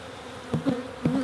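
Honeybees hum close by at an open hive, a steady insect drone with a few brief louder swells as bees pass near, no talking.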